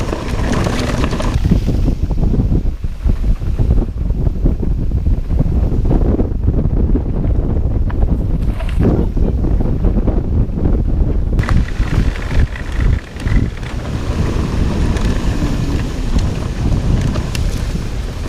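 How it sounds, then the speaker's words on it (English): Strong wind roars and buffets steadily in the woods during mountain biking at Reddish Knob, Virginia, gusting up and down with rustling and microphone rumble, loud and close, with no voices. "Windy, even like in the woods in here."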